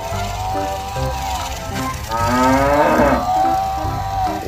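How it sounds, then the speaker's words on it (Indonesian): A cow moos loudly and close by at an outdoor animal spot, its long drawn-out low call rising and falling across the moment, with faint background chatter. "Ternyata di sini ada sapi tuh."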